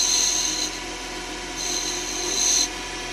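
A lathe tool cuts a small cove into a spinning miniature onion finial, a steady close hum overlaid with two short higher scraping passes of the tool against the wood.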